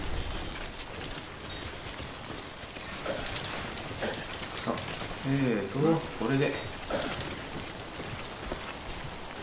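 Steady rain hisses throughout in the video game Death Stranding, a dense, even patter with a spoken comment and a brief tonal sound near the middle.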